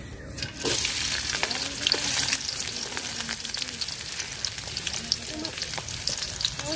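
Chopped garlic and onion hit hot oil and sizzle steadily for several seconds, a dense close crackle with occasional stirring scrapes and faint background voices.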